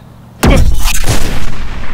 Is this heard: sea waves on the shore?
no